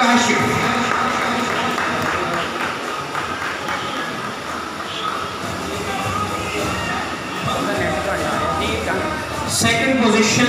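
Applause at a school prize-giving ceremony, a steady, loud wash of crowd clapping that fills the hall throughout, with an announcer's voice speaking over it.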